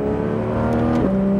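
A car engine hums steadily, then its pitch shifts as it revs up briefly, close and continuous with no talking.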